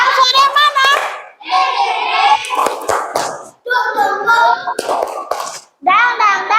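A class of children chant and clap together in a rhythmic spirit clap during an Islamic religious education lesson, their young voices loud and close in repeated bursts with short pauses between phrases.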